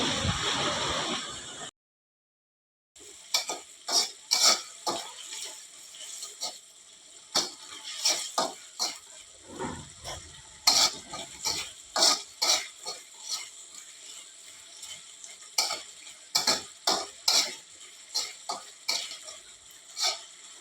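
Gobi manchurian (cauliflower) fries in a pan at home while a utensil scrapes and stirs it in irregular, clattering strokes over a constant sizzling hiss.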